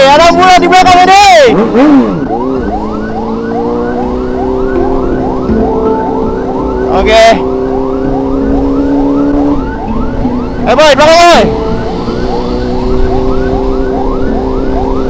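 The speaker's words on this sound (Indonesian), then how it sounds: "Aduh, ada ambulan di belakang ini." Ambulance siren wailing on the road close behind a motorcycle, a steady rising-and-falling electronic wail running the whole stretch with loud horn-like bursts cutting in, while someone talks over it.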